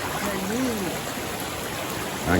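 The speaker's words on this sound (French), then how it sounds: "La cascade avec Ando" A waterfall, a steady broadband rushing roar filling the whole clip at close range, with a few brief voices talking over it.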